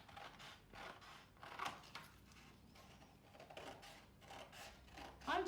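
Scissors cutting a cardboard tube for a craft owl, making quiet, quick repeated snips and crinkles at close range with no talking.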